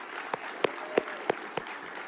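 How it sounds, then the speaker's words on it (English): A handful of sparse, evenly spaced handclaps, about five in two seconds, sound quietly in a large hall during a Little Rock mayor's State of the City address, over faint room murmur. "Let's give him a round of applause."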